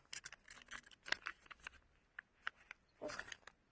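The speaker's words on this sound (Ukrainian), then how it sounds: "Відкриваємо наш пакетик." A small plastic packet being torn and opened at close range, with crinkly rustles, a few sharp crackles and a louder burst of rustling near the end.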